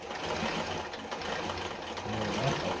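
A Singer 237 Fashionmate sewing machine stitches its widest zigzag, a steady close mechanical whir with a fast rhythmic chatter of the needle running continuously.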